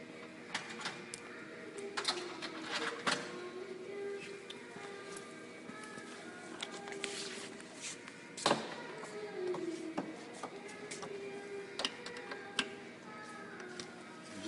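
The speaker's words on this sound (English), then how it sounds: "so this is where we need the screwdriver" A screwdriver works on a washing machine motor during removal, giving scattered close ticks, clicks and short scrapes over a quiet background.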